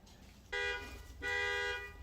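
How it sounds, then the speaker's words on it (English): A neighbour's home alarm system sounding in a workshop during a mini mill Z-axis kit install, two sustained electronic tonal bursts about three-quarters of a second long with a short gap between, moderately loud and with no talk. "shout out to the kid next door pressing the parents' alarm system all the time"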